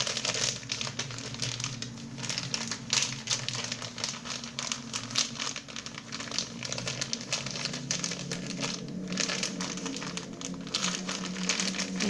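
A Boc'n Roll fabric wrap is folded and handled up close, giving a continuous rustling, crinkling texture with small rapid ticks that lasts throughout, no talking.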